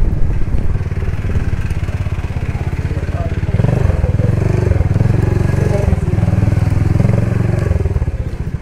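A motorcycle on a street, loud and close, its engine chugging in a steady rapid pulse, then swelling louder as it passes and fading slightly at the end, with a voice faintly underneath.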